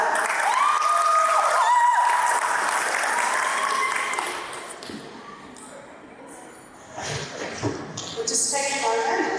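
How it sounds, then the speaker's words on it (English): An audience at a student Shark Tank pitch event gives a round of applause, loud clapping at first that fades out midway, then picks up again with voices and shuffling. "Can we please give a round of applause for Naba?"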